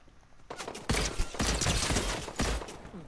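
Scoped assault rifle fire in a video game: dense bursts of rapid gunshots, loud and close, opening faintly and then rattling on steadily to the end with no talk over them.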